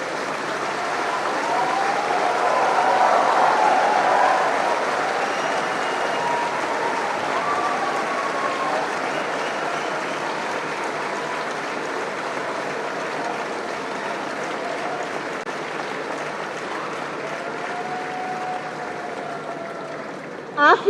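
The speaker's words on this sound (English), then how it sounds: "Please join me in extending a warm round of applause." An audience applauds at an IIT Chennai convocation ceremony, with sustained, dense clapping from a large crowd that swells early and then holds steady for about twenty seconds.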